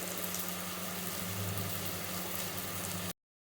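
Eggplant and bitter gourd sautéing in sesame oil in a pan for South Indian kara kulambu, a steady bubbling sizzle with a low hum, close and even, stopping abruptly near the end.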